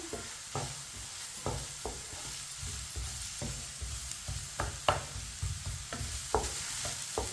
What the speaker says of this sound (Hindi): अब इसे 1 मिनट के लिए पका लेते हैं।